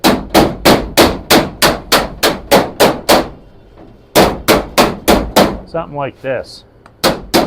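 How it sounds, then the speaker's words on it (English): A hammer and dolly work the rolled edge of a new car's fender, ringing out a loud, steady run of sharp metallic clangs. The strikes pause briefly, then resume, with a short bit of speech in between. "take your hammer, and start working it around and then flat"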